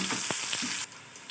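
Chopped onions hitting hot oil in a pan for an eggplant tawa fry, a loud bright sizzle with a few quick stirring knocks that drops to a softer steady hiss.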